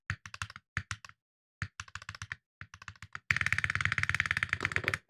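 Rapid keystrokes on a computer keyboard, typed in short separated bursts at first and then a dense, continuous flurry of clicking, close and fairly loud, with no talking.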